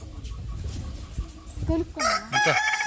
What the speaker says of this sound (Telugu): ఇక్కడ గిన్నె కోళ్ళు కానీ టర్కీలు కానీ ఈమూస్ కూడా ఉన్నాయండి